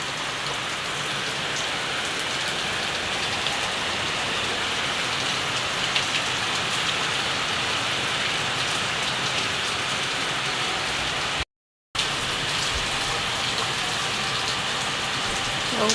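Steady rain falls on a surface in a continuous loud patter, close and unbroken apart from a brief gap near the end.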